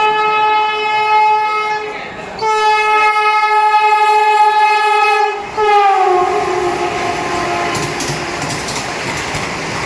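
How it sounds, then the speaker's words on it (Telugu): A train horn blares in long, loud blasts with short breaks, then a rumbling, rattling train rolls into a station close by. "ఫైనల్గా అయితే మాత్రం మన ట్రైన్ అయితే వచ్చేసింది"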